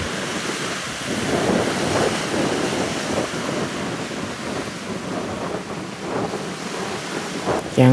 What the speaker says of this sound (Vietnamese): Quá sóng.